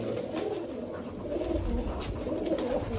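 Soft, low pigeon coos roll on continuously and close by in a racing pigeon loft, with faint rustling in the background.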